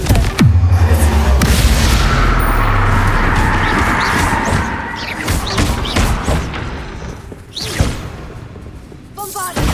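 The Confringo fire spell bursts in Hogwarts Legacy with a loud, heavy explosive boom and a rushing roar that fades slowly, followed by scattered crackles and a short call, with a voice heard over it.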